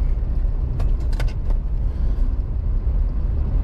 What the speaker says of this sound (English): we're in the car on the move today because I need the car